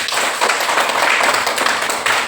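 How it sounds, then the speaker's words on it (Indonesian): Audience clapping hands at a school event, a dense, steady patter of many hands lasting a couple of seconds, fairly close and loud with no talk over it. "Silakan tepuk tangan lalu."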